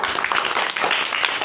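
A group of village children in Kaimur, Bihar clapping together, a brief dense burst of close, fast applause.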